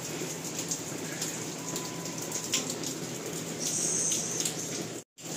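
Heavy rain falls steadily as an even, close hiss of drops striking surfaces, with a faint higher trickle partway through before it cuts out abruptly near the end.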